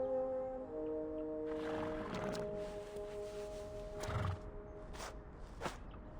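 A horse in the Reverse: 1999 video game whinnies over a soft sustained musical backdrop, with a few hoof thuds and snorts following, faint and without speech.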